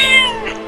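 A cartoon cat lets out one short, close, bright meow, alone and over almost at once.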